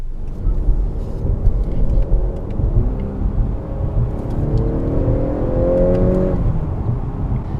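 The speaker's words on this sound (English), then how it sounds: "right now I'm driving down the road at about 50 miles an hour" 2018 Honda Accord Sport 2.0T with a 10-speed automatic cruising at about 50 mph, a steady low road and engine rumble with a faint rising whine as it picks up speed.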